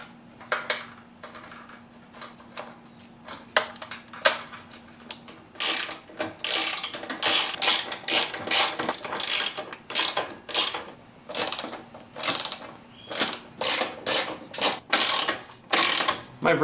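A hand ratchet clicks while snugging bolts on the timing cover of a Jeep 4.0L engine. Quick bursts of close, crisp ratcheting repeat over and over, with brief pauses between strokes.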